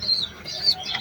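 A paired couple of angel pigeons gives brief, soft calls, two short chirping notes close by over a quiet background.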